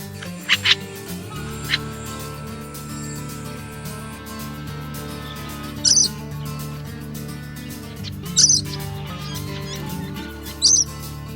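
Bird calls in a rain-soaked rainforest swamp in Far North Queensland: a few sharp chirps stand out briefly over a steady bed of hum and distant ambient noise, with several short bursts spaced apart.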